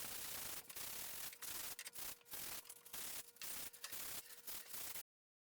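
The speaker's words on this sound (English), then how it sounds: "I'm just taking 100 grit sandpaper so I can sand this edge down" Hand sanding the edge of a board with 100 grit sandpaper in a tool wall build: about seven rhythmic back-and-forth rasping strokes, close and loud, with no talking.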